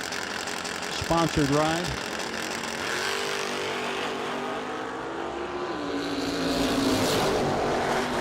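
1968 Ford Mustang drag race car at a no-delay drag racing event, its engine droning and shifting in pitch at a distance beneath a track announcer's commentary.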